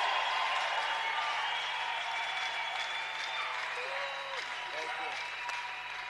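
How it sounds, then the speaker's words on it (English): Youth congregation at an overnight church service clapping for the Lord: dense, sustained applause from a large crowd, steady and fairly even throughout, with a voice briefly audible underneath. "Give the Lord Jesus a better clap offering."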